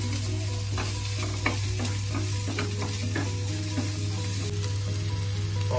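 Chopped mushrooms fry in a pan for a dhaba-style gravy with a steady, close sizzle and occasional stirring scrapes, with no talk over them.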